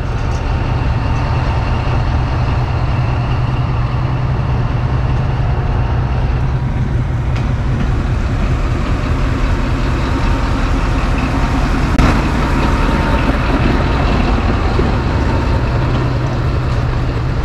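A Pakistan Railways diesel shuttle train, the 126 DN Raiwind Special, pulls away from a station with a steady, loud, low engine drone and rumble that holds throughout, with faint rattles overhead and no talking.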